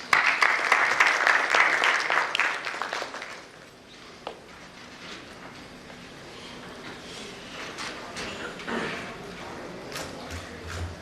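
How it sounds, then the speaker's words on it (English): An audience at an entrepreneurship event breaks into loud applause that fades after about three seconds, followed by a quieter hall with scattered footsteps and faint background murmur. "please give a round of applause to invite him"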